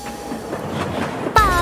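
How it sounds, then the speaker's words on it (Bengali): A train sound effect in a Bengali nursery rhyme song, with rumbling, clattering wheels building up and a sharp squeal or whistle bursting in near the end. Sung music plays beneath it. "রেলগাড়ি ছম ছম"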